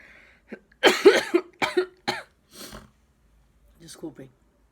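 Several harsh coughs in a quick cluster, close to the microphone, followed by a pause and a softer throat-clearing cough.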